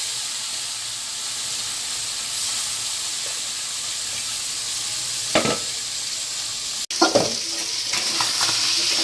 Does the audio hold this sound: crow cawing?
no